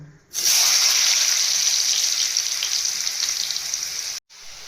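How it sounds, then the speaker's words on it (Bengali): Loud, steady sizzling of potatoes frying in hot mustard oil in a kadai, starting abruptly and continuing evenly before a brief cut near the end. "ভাজার জন্য কড়াইয়ে তেল দিয়েছি, সর্ষের তেল দিয়েছি। এবার আলুগুলোকে ভেজে নেব।"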